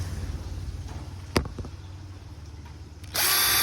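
An IMAX three-mode cordless drill for driving screws and drilling wood, metal and masonry gives a sharp click after quiet handling. Near the end its motor suddenly spins up into a loud, close, high whirr.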